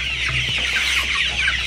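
Chickens cluck steadily on a chicken farm, a dense overlapping flock chorus with a few sharper clucks rising above a low steady background hum.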